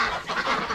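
A duck gives a brief, close quack amid steady background bird noise, with no one speaking.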